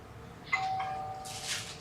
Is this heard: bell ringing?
yes